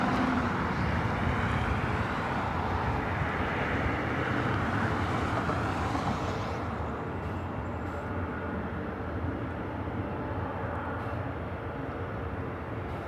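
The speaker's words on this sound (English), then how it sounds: "that A380 taking off on the south side, 25 left" An Airbus A380 takes off from runway 25 left on the south side at LAX, a steady, broad engine roar that stays at a constant level throughout with no talk.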